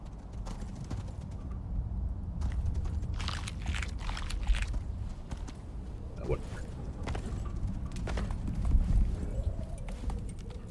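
A pig moves around on foot in the survival video game Icarus, its steps coming as a loose, uneven clopping at moderate loudness over low ambient game noise.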